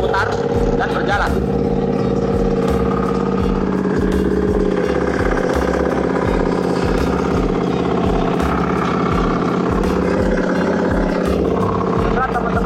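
An FCT25 crawler tractor ploughing a rice field in second gear, low transmission ratio, with the rotary lowered: a loud, steady engine drone with a rhythmic low chugging throughout, and a voice talking over it.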